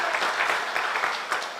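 A church congregation at a Sunday worship service claps together in a brief burst of dense, even applause that fades slightly toward the end.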